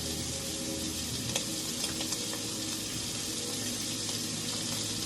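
Tomatoes sizzling steadily in a hot pan while shrimp pasta is being cooked, a close, continuous crackling hiss with small pops and no talk.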